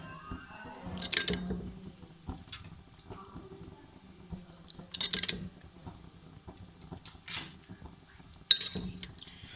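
Chicken matka biryani being stirred in a cooking pot, with sporadic clinks and scrapes of a spoon against the vessel and quiet gaps in between.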